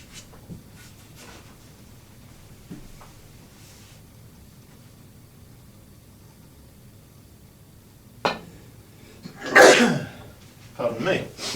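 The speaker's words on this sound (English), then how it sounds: "I always sneeze when somebody plays that shot well against me." A single sharp sneeze bursts out during a black ball game, loud and close after a stretch of quiet room tone with small clicks, followed by a couple of further bursts.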